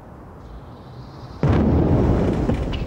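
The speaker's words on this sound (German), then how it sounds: "Ein kurzer, dumpfer Knall." Controlled blasting of a concrete air-raid bunker: after a quiet hiss of background, a single short, dull boom hits suddenly and loud, then rumbles on as a lingering low roar.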